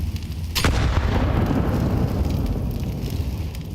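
Grenades exploding in a Counter-Strike match at IEM Chengdu 2024, a sharp blast near the start followed by a long, dense rumbling roar that slowly fades and persists to the end.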